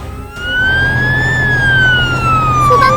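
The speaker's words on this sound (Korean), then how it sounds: "소방차는 지체 없이 곧장 무슨 일인지 확인하러 달려갑니다." A cartoon fire truck's siren wails in one long rising-and-falling sweep, loud and close, over a low engine rumble.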